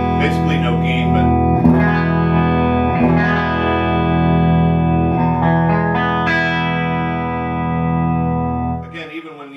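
An electric guitar, a 2018 Gibson Brazilian R9 Les Paul, plays sustained, clean chords with almost no gain through a 1964 Fender Deluxe Reverb Blackface valve amp, ringing with reverb, then fades out near the end.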